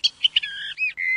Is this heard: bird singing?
yes